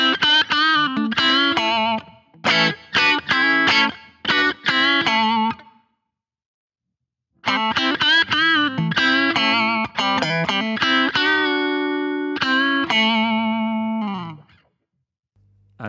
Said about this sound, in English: So this is your out of phase sound